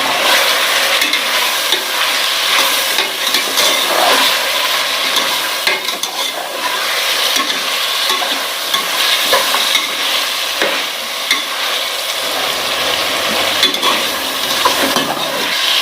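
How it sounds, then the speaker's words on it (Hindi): Fried chicken with whole garam masala being stirred in a pan, with a loud, continuous, close sizzle and steady scraping strokes throughout. "अब हम ये साबुत गरम मसाला डालेंगे। ठीक है, और अब फिर इसे हिलाएंगे।"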